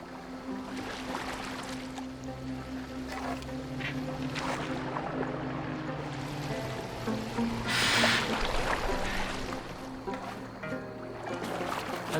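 Boat moving across water in the Assassin's Creed Valhalla video game, a continuous low rushing wash of water and hull under a steady drone of game ambience, with one brief louder splash partway through and no talking.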